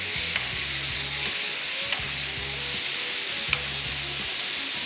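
Marinated beef pieces fry in a hot pan for a satay and black pepper beef dish, giving a steady close-up sizzle with a few soft clicks as pieces shift, and no voices.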